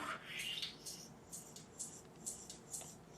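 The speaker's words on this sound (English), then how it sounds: "And if you put a high pass, it'll sound like this." A song played through a DJ mixer's high-pass filter comes across thin and quiet, its bass stripped away so that only crisp hi-hat ticks and airy upper tones remain, with no voice over it.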